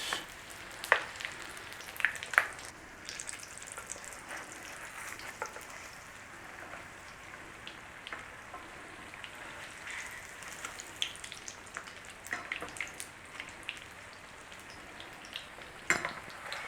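Potato pancakes stuffed with corned beef and mozzarella fry in a pan with a soft, steady crackling sizzle and occasional sharper pops and spatters throughout.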